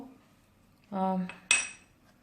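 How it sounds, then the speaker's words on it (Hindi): Utensils clink and scrape against a bowl as dry cake ingredients, including flour, a pinch of yellow food colour and salt, are stirred together for cake rusk, in two short close bursts. "ये तमाम ड्राई इंग्रेडिएंट्स हम इस तरह से अपने बाउल में मिक्स कर लेंगे।"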